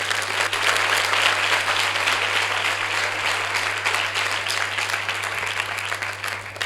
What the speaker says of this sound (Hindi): तो ताली बजा दो फिर।